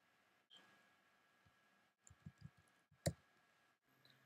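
Computer mouse clicking while working in WordPress: a few faint, sharp clicks scattered across a few seconds, one louder click standing out, in an otherwise quiet room with no talk.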